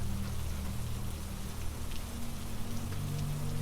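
Steady rain falls continuously, a dense even patter with a low hum beneath it, heard alone without any voices.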